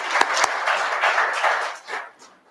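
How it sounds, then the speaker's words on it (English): Applause from attendees at a Manitowoc County Board meeting, honoring fair volunteers: a short burst of clapping with a few sharp claps standing out, fading away after about two seconds. "So a round of applause goes to them as well."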